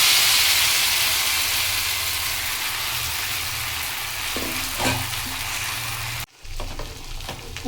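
Gola roti batter fries in a kadai, giving a loud, steady sizzle and hiss with occasional stirring or scraping, cutting off briefly near the end before resuming.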